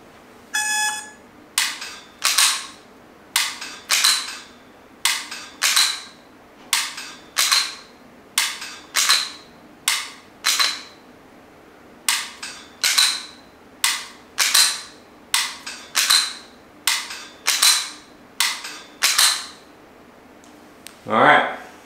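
Dry-fire practice with a G-Sight laser training system gives a long, evenly paced series of sharp clicks, each followed by a short electronic beep, about twenty in all, loud and close with no talking.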